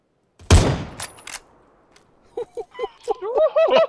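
In PlayerUnknown's Battlegrounds, one sharp, loud gunshot followed by a couple of quicker cracks, then a pause before someone starts excitedly shouting.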